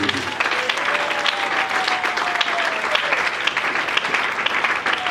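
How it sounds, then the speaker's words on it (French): A church congregation claps for the Lord in a dense, steady round of applause that fills the room, with a crowd murmuring faintly beneath it. "Acclamons pour le Seigneur."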